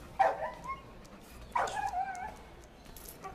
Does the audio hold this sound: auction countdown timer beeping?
no